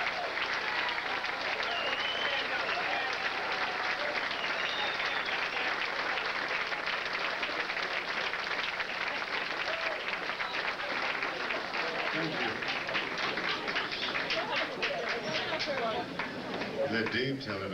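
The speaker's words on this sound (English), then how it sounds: "Let's hear a nice round of applause for Mr." A live show audience gives a long, steady round of applause, dense clapping filling the room throughout, with voices and some music emerging near the end.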